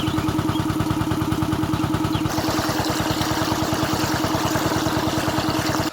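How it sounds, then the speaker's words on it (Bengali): An irrigation pump engine runs in a field under strong sun, chugging loud, close and steady, its rapid regular beat holding unbroken throughout with a slight shift in tone partway through. "তো এখন যাব মেশিন স্টার্ট দিতে।"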